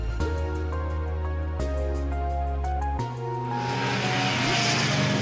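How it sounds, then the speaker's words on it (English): A vehicle engine in Trails of Cold Steel 3 holds a steady, loud drone of layered tones that shifts in pitch as it starts and revs up. A rising rushing noise builds over it toward the end. "I'm starting the engine."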